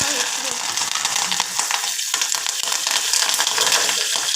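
Continuous crackling sizzle of curry leaves frying in hot oil for tempering, close and fairly loud, with brief stirring noises mixed in.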